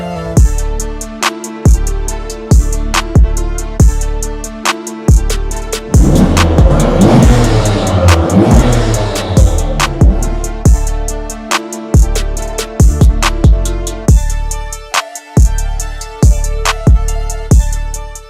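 Honda Civic Type R FL5 with a carbon fiber intake, engine revving hard in repeated bursts, a sustained roaring surge in the middle, and loud turbo spool and blow-off between throttle blips, close and without talk.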